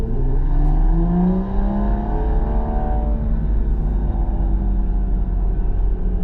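A car pulls away at the Nürburgring, its engine swelling in a rising rev before easing back into a low, steady rumble, heard loud and close from inside with no talk.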